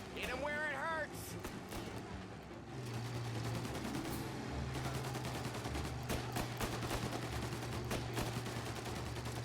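Gunfire in the Mafia video game, a rapid run of sharp shots from several guns over engine rumble and a steady tone, with people talking at the start.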